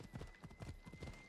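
A horse's hooves clip-clop in Assassin's Creed Odyssey, a quick, even rhythm of soft thuds repeating at moderate distance and fairly low volume.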